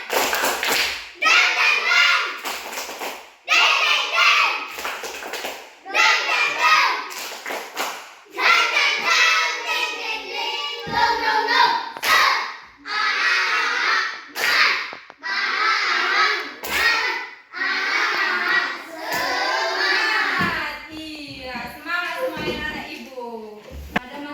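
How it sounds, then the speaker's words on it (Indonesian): A class of children at school stands and performs a rhythmic spirit clap, bursts of sharp clapping and thumping in a counted pattern alternating with loud chanting and a teacher's voice leading them. "Ayo, tepuk semangat."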